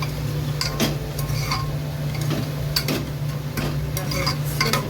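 Food in a covered pan is stirred, giving irregular sharp clicks and scrapes over a faint sizzle and a steady low hum.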